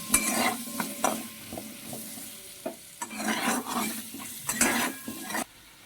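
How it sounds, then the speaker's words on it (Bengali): Potatoes frying in hot oil with turmeric, stirred repeatedly with a utensil: steady sizzling broken by several scraping, clattering strokes against the pan, close and fairly loud, with no voices. "আলুটাকে নেড়ে চেড়ে আমি লাল করে ভেজে নেব"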